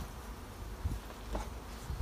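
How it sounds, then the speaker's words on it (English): Honeybees buzz around a hive during a nuc transfer into a full hive, a soft steady hum with faint individual bees passing close. "these bees over the next while will move into the hive themselves"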